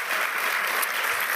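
Dense, steady applause from a large audience fills the space, a loud continuous wash of many hands clapping without pause.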